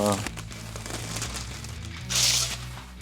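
Paper crinkles and rustles as it is spread over a workshop tabletop before gluing a DIY wooden cross, soft handling noises with a louder crumple near the end while someone talks throughout.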